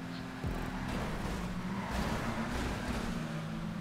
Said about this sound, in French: Oh, mon véhicule, il drift à mort, c'est stylé.